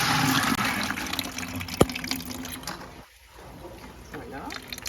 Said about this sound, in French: je vais prendre un pot maçon, puis je le rince. Je rince tous mes graines avant de les semer.